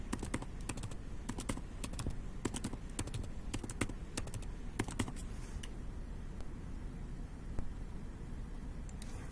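Rapid typing on a computer keyboard, clusters of crisp close key clicks in bursts with short pauses, steady and fairly quiet with no talk.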